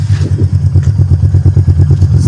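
A Royal Enfield Meteor 350 motorcycle idles up close with a loud, steady, low thumping exhaust beat and an even rhythmic pulse, and no voices are heard.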